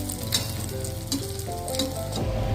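Egg batter with onion sizzles steadily on a hot tava while being stirred, with a continuous close-up frying hiss and occasional clinks and scrapes across the whole stretch.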